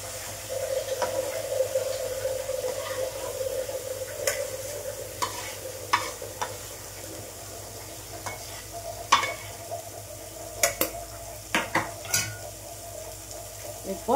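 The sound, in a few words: mushrooms frying in a pan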